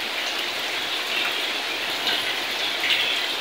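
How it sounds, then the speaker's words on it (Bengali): Steady rain falls outdoors as a dense, even hiss of drops on surfaces, constant and fairly soft throughout with no voices. "এই যে দেখুন কত সুন্দর বৃষ্টি হচ্ছে।"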